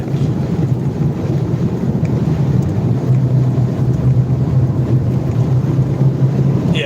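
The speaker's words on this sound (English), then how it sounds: "Oh yeah, that's a strong wind." Strong, gusty wind roars steadily in the Texas Panhandle under a high wind warning and extreme fire threat, a loud, constant rumble buffeting the microphone throughout with no voices.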